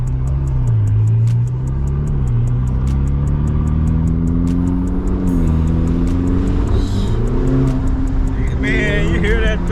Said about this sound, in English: you hear that thing kick in. You hear the turbos kick in.